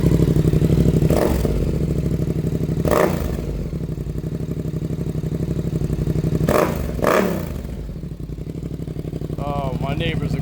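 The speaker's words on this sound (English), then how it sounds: "A new exhaust, let's hear it." A Yamaha R7 motorcycle fitted with a new Vandemon exhaust idles with a steady throb, broken by several sharp throttle blips that surge and fall back, loud and close, with a few brief voices near the end.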